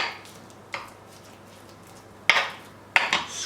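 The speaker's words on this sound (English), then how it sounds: "squashing all these juices in that butter" Garlic and its juices squashed into butter in a bowl for garlic bread, with sharp utensil clinks and scrapes against the bowl at about 0.7, 2.3 and 3.0 seconds over a quiet background.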